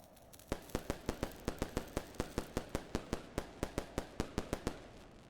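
A firecracker attack in a video game sets off a rapid, evenly spaced string of about twenty sharp cracking pops, crisp and fairly faint, with no talking.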